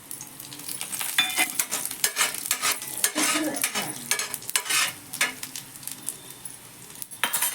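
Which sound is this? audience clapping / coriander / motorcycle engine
coriander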